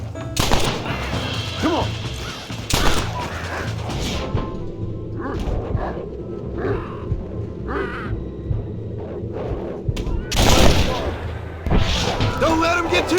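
Gunfire in a Red Dead Redemption shootout: sharp, loud shots crack out at irregular intervals over a steady rumble of game sound, with a voice breaking in briefly.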